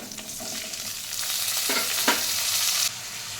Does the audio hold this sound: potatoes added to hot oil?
yes